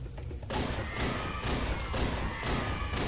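Several grenades bounce and land with dense, repeated thuds and clatters during Halo 3 gameplay. The impacts are loud and close, piling up over continuous game noise without a pause.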